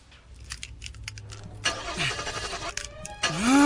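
A car engine cranks and fails to catch, with a jangle of keys and several whirring starter attempts in a row, the last one loudest and closest.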